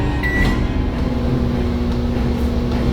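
A microwave oven hooked up to an AI controller runs with a steady, even electrical hum that holds unchanged and fairly loud from start to finish.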